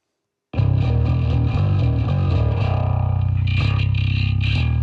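A bass guitar heavily distorted through the Laney Digbeth plugin on iOS plays a chugging riff after a short silence, gritty and saturated, with buzzing overtones sustaining throughout.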